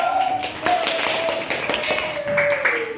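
Students in a classroom clap for group 1, a busy sustained patter of many hands close by, with a few voices calling out over it.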